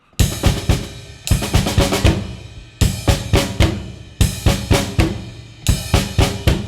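A drum kit plays a steady beat from a rock song in repeating bars, bass drum thumping on downbeats and ands under sharp snare and cymbal hits, loud and close with short pauses between phrases.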